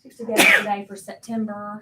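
A single loud sneeze bursts out in the middle of someone speaking, and the talking picks up again right after.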